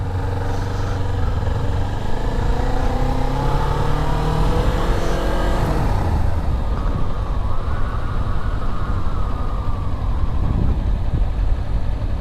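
Motorcycle engine running at low speed in a parking lot during practice drills, a close, continuous rumble whose pitch rises and falls with throttle changes before settling into a steady idle.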